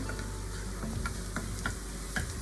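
Food fries in olive oil in a pan, with a steady sizzle and a regular series of light ticking taps, like a utensil stirring against the pan, close and fairly quiet, with no talking.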